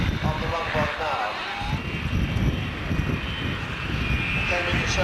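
Propeller aircraft flying in low over the runway at the 1993 Fairford airshow, a loud steady engine drone with wind noise, while a commentator talks over it throughout.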